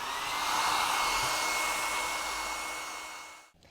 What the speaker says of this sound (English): I'm going to quickly blow dry this, that it can just get dry